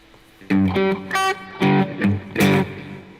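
Electric guitar with a short reverb and a country tone, playing a few bright, twangy phrases of single notes and brief chords, close and clear, each phrase separated by short pauses.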